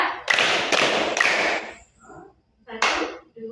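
A class of pupils in an Islamic studies lesson claps as a group in a three-beat pattern, three loud crisp claps in quick succession, then a pause and another burst.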